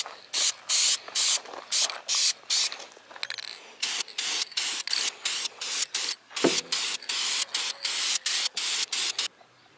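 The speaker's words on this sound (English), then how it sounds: "So I'm gonna start hitting it with the color of the paint" Spray paint applied to coilover struts and springs in a series of short, loud hissing bursts, each about half a second long with brief pauses between, close to the microphone and with no talking.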